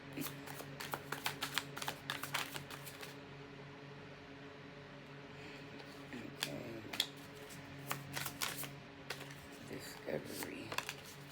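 Tarot cards being shuffled by hand in a series of quick, crisp riffling bursts, loudest early on and returning in shorter clusters later, close to the mic with a steady low hum underneath.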